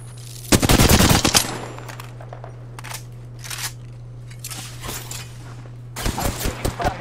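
Rapid automatic gunfire bursts loudly in a video game, with a long opening volley, scattered single shots and short bursts in between, then another heavy volley at the end over a steady low electronic hum.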